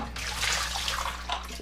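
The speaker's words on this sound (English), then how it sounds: "Let's dump out the water." Water splashing and pouring out of the tank of a Levoit LV600HH humidifier, a continuous close gushing spill lasting a moment.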